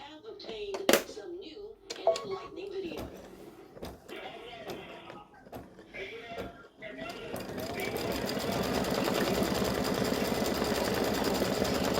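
An embroidery machine stitches out a Valentine gnome mug rug design, starting after some handling noises and a voice, then settling into a steady, even stitching rhythm.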